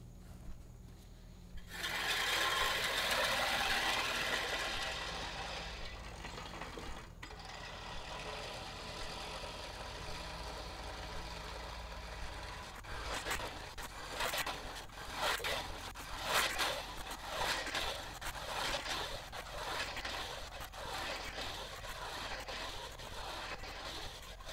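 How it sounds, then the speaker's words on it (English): An old-fashioned push reel mower runs through ryegrass with a loud whirring, rustling swish at first, then a run of rougher, uneven clattering and scraping passes. "this is just an old-timey push reel mower"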